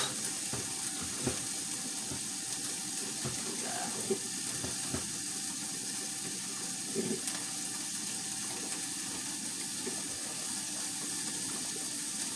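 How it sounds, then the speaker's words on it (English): Breakfast sausage frying in a pan, a steady broadband sizzle with faint pops and crackles running continuously and evenly, fairly close and with no talking over it. "so my sausage is cooking"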